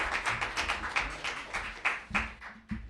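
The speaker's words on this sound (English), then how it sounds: "Keep applauding all the way up." Audience applause at an open mic event as a performer walks up to the stage, made of a dense patter of hand claps from a modest crowd that continues throughout, close and even.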